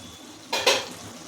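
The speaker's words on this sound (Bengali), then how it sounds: "কিছুক্ষণ ছাড়াই ঢাকা খুলছি আর নাড়ছি, যেহেতু বাদাম আছে লেগে যায়" A pan lid lifts off a covered pan of masala and nuts cooking in released oil over medium heat, followed by a short burst of sizzling and one quick scraping stir, then quiet simmering.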